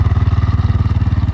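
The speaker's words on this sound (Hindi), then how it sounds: "अब आलिया चला रही है ATV।" An ATV engine runs loud and close during a desert ride in Dubai, a fast, even, throbbing idle-to-cruise putter with a steady low pulse and no pauses.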